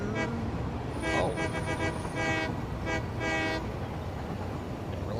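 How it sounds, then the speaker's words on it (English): A train horn sounds in the factory-building video game Satisfactory, in several repeated honks of differing length over a steady rumble of rolling rail cars. It is fairly loud and has no talking. "Didn't realize I could honk the horn"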